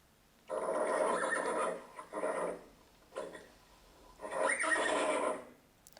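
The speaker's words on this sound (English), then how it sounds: "It's a horse." A horse neighs loudly in several long, shrill whinnies with short pauses between them, heard clearly with no other sounds.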